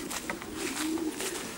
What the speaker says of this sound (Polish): Gołębnik lotowy, gołębi dorosłych.